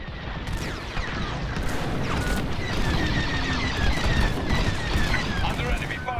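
Enemy fire in the Star Wars Squadrons PC game: a dense, continuous barrage of rapid laser blasts, booms and crashes rattling loudly for several seconds, with voices talking underneath.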